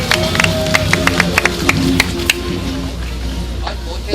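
Crowd at a 2013 street rally protesting policies that hurt small neighborhood businesses and the self-employed claps in sharp, fairly regular bursts over a steady background of voices and music-like tones, fading toward the end.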